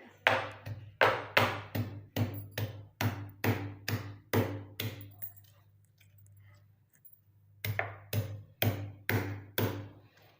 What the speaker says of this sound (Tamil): இந்த கல்லை வச்சு அப்படியே இடித்து எடுத்துக்க போகிறேன்